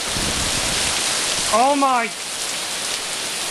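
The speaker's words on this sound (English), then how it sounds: "Stop it! Stop raining!" Heavy rain pours down in a steady, dense roar throughout, with a person shouting and exclaiming loudly over it partway through.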